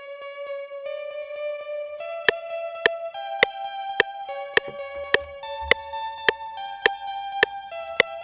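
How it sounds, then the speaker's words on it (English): A bright, plucked laser harp synth melody with a harp-like sparkle plays alone, its notes stepping through a simple line while sharp percussive clicks tick in a steady rhythm. "which is a laser harp"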